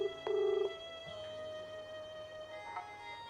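A phone call placed on a mobile phone produces a telephone ring tone, one loud buzzy burst near the start followed by a softer continuing tone, faint and alone with no talk.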